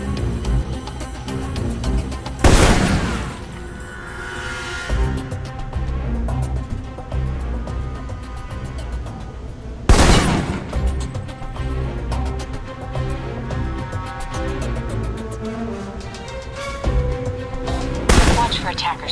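Assault rifle fire in the game Alpha Protocol, with three loud, sharp gunshot blasts spaced several seconds apart against a busy backdrop of game music and ambience, while a voice talks between the shots.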